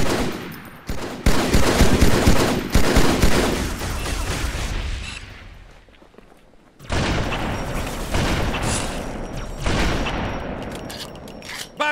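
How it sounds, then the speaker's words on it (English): Heavy bursts from a Covenant Shadow vehicle's gun in Halo 2, on the Outskirts mission, come as loud repeated blasts and sustained rattling fire with booming impacts, a brief lull, then renewed volleys. "Careful, Chief. That Shadow's gun packs a punch."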